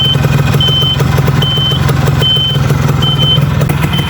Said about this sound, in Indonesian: kita dengarkan suara mesin. Suara mesinnya sangat halus.